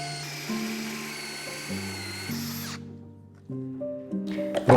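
Power drill whining at changing speeds while boring 15 mm holes in a panel for velvet-upholstered tufted headboard panels, the motor pitch stepping up and down in bursts, close and fairly loud, with a short clatter at the end.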